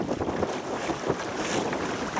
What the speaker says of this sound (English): Pretty windy out today, huh, Cricket?